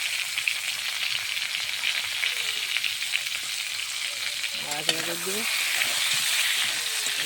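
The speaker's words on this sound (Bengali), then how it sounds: "সুন্দরভাবে তেলটা ফুটছে, সুন্দরভাবে পটলগুলো সুন্দর করে ভাজিয়ে দেবো।" Pieces of pointed gourd (potol) sizzle steadily in bubbling hot oil in a pan, with a close, continuous crackle and a brief stir partway through, while someone speaks over the frying.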